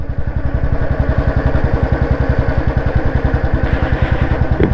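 A Royal Enfield BS4 Standard motorcycle with 43,000 km on it thumps steadily as it slows, a loud close single-cylinder beat with an even rhythm and mechanical clatter and no talk.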